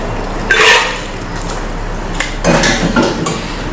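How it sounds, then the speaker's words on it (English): A cocktail, the Last Word, is double strained into a frozen glass at a bar in High Water, London: metallic rattling and clinking of the shaker and strainer comes in two short bursts, close and fairly loud. "And just double strain it."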